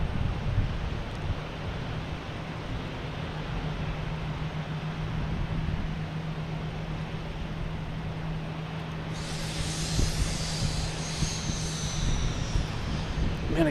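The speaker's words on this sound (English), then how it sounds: "We have a JetBlue coming in from Santo Domingo," A JetBlue Airbus A321 arriving from Santo Domingo at Boston Logan produces a faint, distant, steady engine roar under wind noise, with a brighter hiss rising toward the end.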